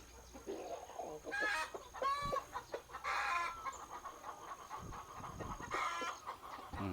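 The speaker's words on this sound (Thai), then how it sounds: "ฟังเสียงไก่" A flock of chickens clucks and squawks nearby at a farm coop, several birds calling in irregular bursts over a steady faint background hum.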